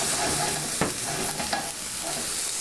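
Bruschetta topping sizzles in olive oil in a pan, a steady, close frying hiss broken by a couple of brief stirring clacks, with no voices.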